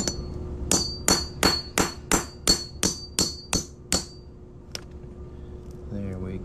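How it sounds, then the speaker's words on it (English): A hammer drives through a coin for a coin ring, with about ten sharp, evenly spaced metallic strikes followed by a lone lighter tap near the end. "Get my handy dandy hammer here and drive it on through."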